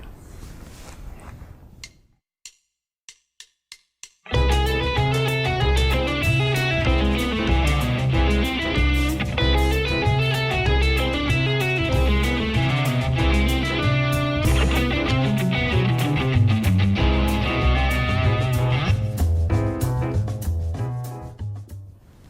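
Fusion guitar lick in C Lydian augmented, a quick flowing line over a full backing track with drums and bass, entering after a few sparse clicks and staying steady and fairly loud before fading out.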